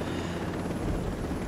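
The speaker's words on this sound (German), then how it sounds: "4 Kilometer Helikopterflug." A helicopter flies in the video game Ghost Recon Breakpoint, its rotor and engine giving a steady, dense broadband roar for the whole stretch at moderate level, with no talking.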